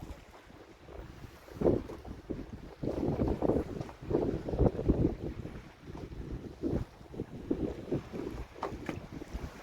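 Strong wind buffets a fishing boat out on the open sea at night, a continuous rough roar with gusting surges and wind noise over the microphone, along with low rumbling from the boat and water.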